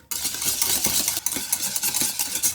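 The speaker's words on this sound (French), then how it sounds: "J'ajoute ma gélatine. Je viens bien mélanger." Gelatine being stirred into hot cream just off the heat, giving a close, steady scraping swish with soft clinks of the utensil against the pan. It runs continuously, without talk.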